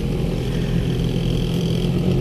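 A car drives along on the way to an animal shelter, its engine and road noise forming a steady, moderately loud interior hum with no talking.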